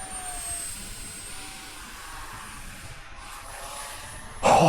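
An FA-XX RC jet airplane flying at half throttle: a steady, moderately distant whining engine drone that rises into a louder rush in the final moment.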